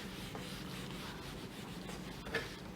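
Faint steady rubbing as writing is wiped off a classroom board, a soft continuous scrubbing swish with a small knock near the end, no voices.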